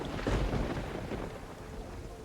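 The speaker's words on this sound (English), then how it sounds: "This thunderstorm is making the computer." A thunderstorm outside brings steady rain and a low rumble of thunder, loudest near the start and then settling into a constant wash of rain.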